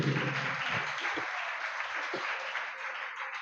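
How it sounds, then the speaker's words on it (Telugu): A church congregation claps hands in a sustained, dense burst of applause that holds steady throughout, loud and close, with no voices rising above it. "చప్పట్ల కొట్టి గట్టిగా చెప్పండి."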